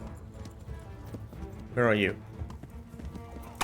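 Horse hooves galloping in the medieval game Kingdom Come: Deliverance, a brief burst of clip-clop near the middle, with a voice speaking over the game audio.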